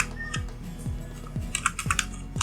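Several keys clack on a computer keyboard while entering a Ctrl+K shortcut in Microsoft Word. The sharp, close taps come in an irregular cluster of about six strokes, heard alone without speech.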